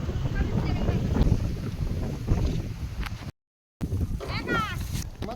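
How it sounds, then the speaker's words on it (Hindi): Strong wind gusts buffet the microphone and shake loose large tin roofing sheets at a family home, producing a continuous rough roar with a brief dropout partway through and faint rattling near the end. "हवा चल रहा है तो बड़ी टीन उड़ रहा है"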